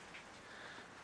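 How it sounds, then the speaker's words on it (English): Light rain begins to fall outdoors beside a vehicle being serviced, making a faint, even patter for a brief moment with no talking. "it's starting to rain"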